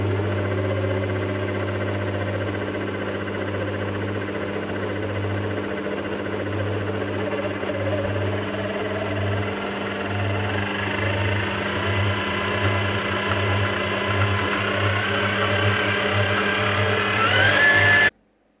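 An electric mixer runs steadily on a slow speed through carrot cake muffin batter, a continuous motor hum with a low drone, close and unbroken, stopping abruptly at the end.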